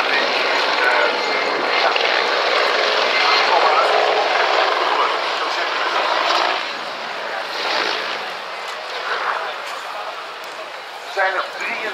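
A Czech Air Force Mil Mi-24 Hind helicopter flies at the Texel Airshow 2018, giving a loud, steady broadband rotor and turbine roar that eases slightly toward the end, with voices mixed in.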